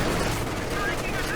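Machine gun fire from the strategy game Company of Heroes, with dense continuous rattling from a machine gun in a house and another behind a log pile, loud and steady throughout under a busy battle mix.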